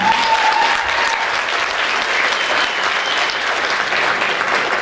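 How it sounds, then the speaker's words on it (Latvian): Audience at a Latvian music event in Aizkraukle applauds in a full, continuous burst of clapping, loud and close, steady from start to finish. "Aplausi viņām!"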